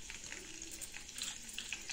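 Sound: mustard seeds, cumin and lentils crackling in hot oil

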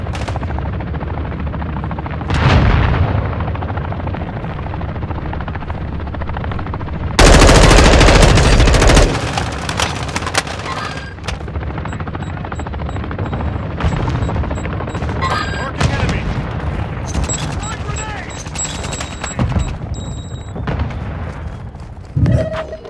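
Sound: gunfire from a video game, Call of Duty DMZ

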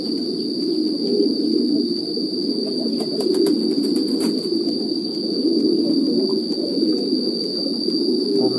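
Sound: pigeons cooing at a pigeon farm

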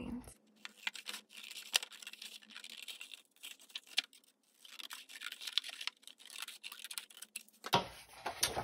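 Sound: scissors cutting paper along dashed lines

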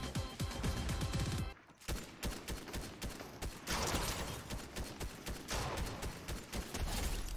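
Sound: gunfire in the video game Fortnite

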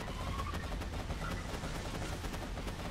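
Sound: gun firing a full magazine in Borderlands 2 video game

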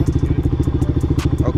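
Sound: go-kart engine running

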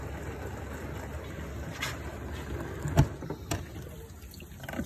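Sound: Nationa dishwasher washing with water

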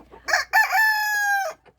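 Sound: chickens clucking and rooster crowing at a dacha

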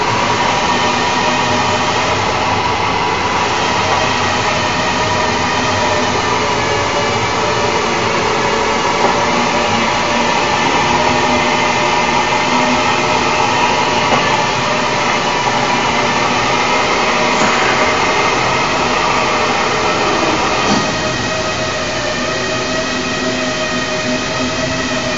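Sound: Quantum ML170 rotary stabilizer rotor spinning at constant speed

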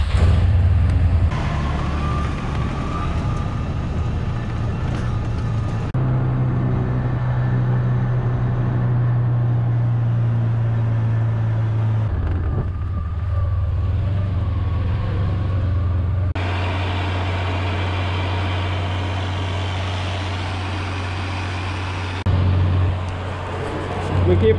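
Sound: vehicle driving down a farm road

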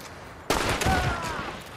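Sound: gunfire from a video game

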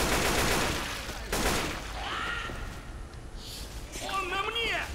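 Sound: gunfire in video game Left 4 Dead 2

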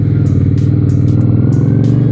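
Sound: V-twin 400cc motorcycle engine

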